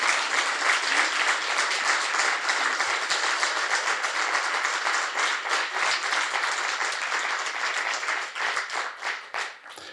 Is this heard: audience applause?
yes